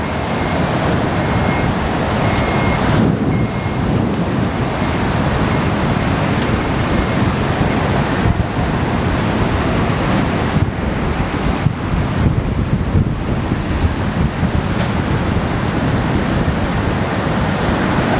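Strong gale-force wind blasts across Levante Beach in Benidorm under a storm warning, rumbling steadily against the microphone over a constant wash of crashing surf, loud and unbroken for the whole stretch.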